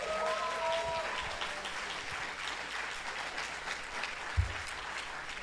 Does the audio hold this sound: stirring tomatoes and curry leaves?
no